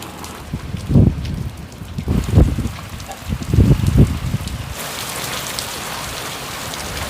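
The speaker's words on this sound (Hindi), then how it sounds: "फिलहाल तो लग गई है बारिश।" Heavy rain pours down with strong gusting wind, loud thumping bursts of wind buffeting the microphone over a steady hiss of rainfall close by.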